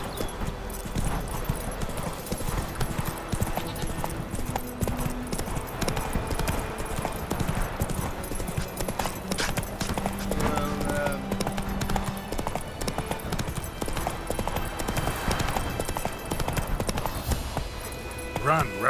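Roach the horse gallops in The Witcher 3, a quick steady clip-clop of hooves running under game ambience and a busy mix of other sounds.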